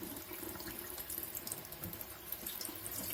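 Water runs steadily from a tap fed by a small instant electric water heater, a continuous close splashing hiss into a sink with no voices.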